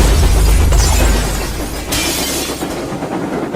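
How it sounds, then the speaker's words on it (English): An explosion shockwave smashes the glass in railway coaches: a loud low rumbling blast rolls into a bright, dense crash of shattering glass, followed by scattered falling shards and a fading rumble. "It caused the glass in the coaches to shatter and rocked them side to side."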